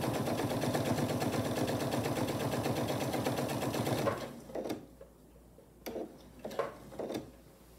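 A sewing machine stitching through a fabric placemat, with a close, even run of rapid needle thumps for about four seconds, then silence broken by a few soft handling taps and clicks.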